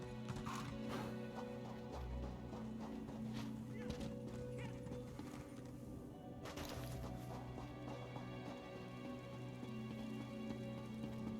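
Horse hooves clip-clop steadily beneath a dense, continuous game soundtrack with rain-like patter in Elder Scrolls Online, the footfalls mixed among layered ambience rather than standing alone.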